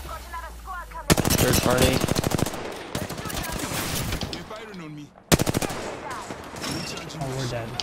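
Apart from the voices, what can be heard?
gunfire in a video game, Apex Legends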